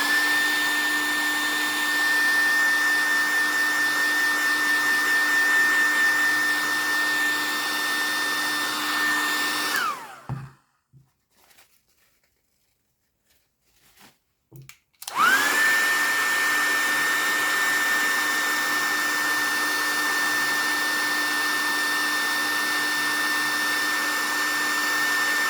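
A hair dryer blows on a handmade Christmas craft folio with a loud, steady whine, cuts off for about five seconds of silence, then switches back on at full strength.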